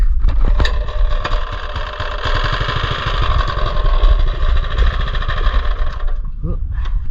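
A small mini bike engine fires up on a cold morning in the 40s and settles into a loud, steady idle, chugging for several seconds before tapering off near the end.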